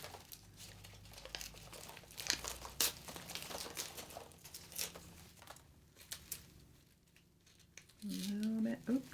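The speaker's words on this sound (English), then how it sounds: "I'll just peel off both of them at the same time here." Stickers peeled off while wrapping a gift for a young girl, crinkling paper and soft tearing rustles up close, with brief faint vocal sounds near the end.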